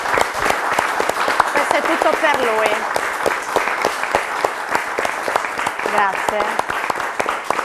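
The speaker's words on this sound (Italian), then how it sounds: "vogliamo fare un applauso" Crowd applauding at an amateur football match between Attimis and Campoformido, a dense run of sharp claps lasting throughout while someone speaks over it briefly in a couple of places.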